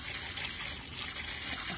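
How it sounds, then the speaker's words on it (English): Water from a broken fish breeding tank is pumped out in a continuous rushing, gushing flow, steady and close with no pauses. "I'm pumping the water out of that now"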